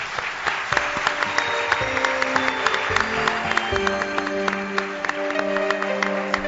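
Steady applause from an audience at a live show in Teruel, continuous clapping throughout, heard beneath sustained music with held tones.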